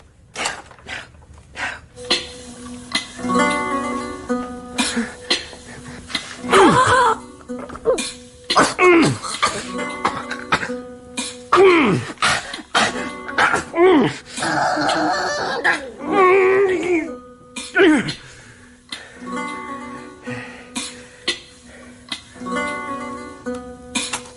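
Repeated harsh coughing and throat clearing, close and loud, coming in uneven bursts with short pauses between them.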